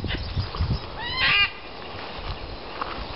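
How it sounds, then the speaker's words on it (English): An Australian sulphur-crested cockatoo in a tree gives a single harsh, raspy screech lasting under half a second, fairly distant against quiet outdoor background noise. "An Australian sulphur-crested cockatoo."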